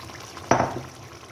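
Boiled tinda (round gourd) paste dropped into a pan of chicken frying with yogurt, giving a single sudden sizzling hiss that quickly fades, close and fairly loud.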